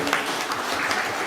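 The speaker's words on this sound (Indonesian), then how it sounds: "Beri tepuk tangan buat Ibu yang dari" An audience applauds for a woman from Bandung at a cultural gathering, a steady, dense wash of clapping at moderate distance that holds evenly throughout.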